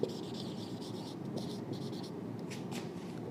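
Writing on a board during a biology lesson, a series of soft scratchy strokes in short bursts, fairly quiet, with no voice over them.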